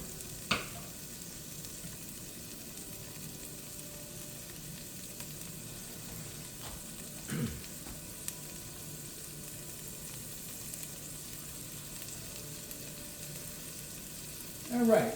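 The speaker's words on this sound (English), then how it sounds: "you can brown that garlic up front, either with the peppers or I guess even with the sausage" Garlic, peppers and Italian sausage frying together in one pan give a steady, moderate sizzle that runs unbroken, with a few sharp clicks and a utensil knock near the end and no talking.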